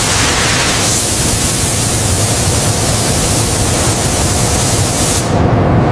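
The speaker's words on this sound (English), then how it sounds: "Applying zinc phosphate primer. Uniform coating to all surfaces." Zinc phosphate primer being spray-coated onto a 60-year-old military tank, a loud, steady, unbroken hiss of spray that runs without pause and cuts out sharply at the very end.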